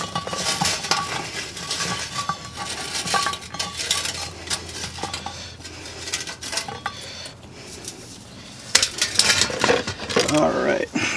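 Metal scraping and clinking as hot coals are scooped and set onto the lid of a cast-iron Dutch oven for cooking cobbler outdoors, a run of close, uneven clatters and scrapes.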